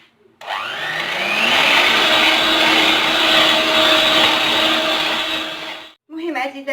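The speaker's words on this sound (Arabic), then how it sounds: "وغنطربو هادشي مزيان حتى نحصلو على كريمه" An electric mixer whipping cream with a pinch of salt, a loud steady whirring drone that starts abruptly, runs for several seconds and cuts off, followed by a brief restart.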